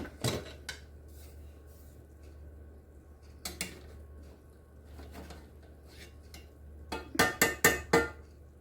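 A frying pan and metal tongs clink and clatter in sharp, scattered knocks while a meatloaf is shifted, ending in a quick burst of four or five louder metallic clanks in a quiet kitchen.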